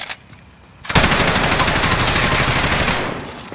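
Automatic machine gun fire in the video game Call of Duty Modern Warfare, Operation Headhunter: after a near-silent second, a loud, dense, continuous burst of rapid shots runs to the end with no talk.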